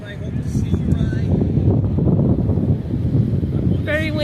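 Strong wind buffets the microphone at an Oregon seaside beach, a loud, continuous roar under occasional voices.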